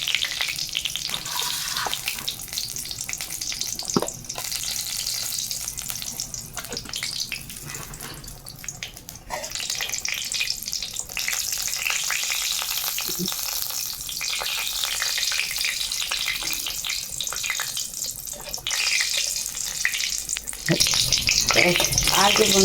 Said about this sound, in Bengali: আর যে শুকনা লঙ্কাটা ভাজা ভাজা হয়ে যাবে।